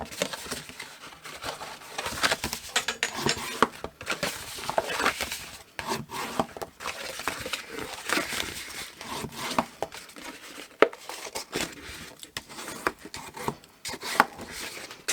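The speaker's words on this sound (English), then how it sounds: "I'm just going to burnish the straight lines at the moment, not those diagonals." Paper being burnished along straight fold lines for a six-sided twist box, a steady run of dry rubbing and scraping strokes with irregular rhythm, close and fairly loud, with no talking.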